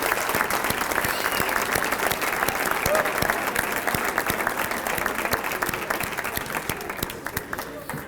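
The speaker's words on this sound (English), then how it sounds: "how about one big round of applause for our all-city team honorees?" A hall audience applauding honorees of the all-city bowling team at the Detroit Bowling Hall of Fame program, loud sustained clapping that holds steady throughout and eases slightly near the end.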